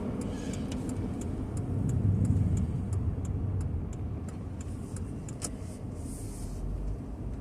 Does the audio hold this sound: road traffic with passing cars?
yes